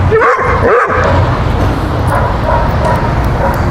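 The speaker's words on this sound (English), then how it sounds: "And he's barking at the cameraman." A dog gives a couple of quick yappy barks early on amid loud, noisy outdoor background rumble.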